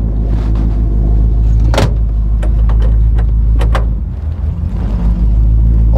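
Old Chevy 283 V8 with a two-speed Powerglide idling, a steady low rumble close by, overlaid with scattered clicks and clunks, and a brief change in the engine note near the end.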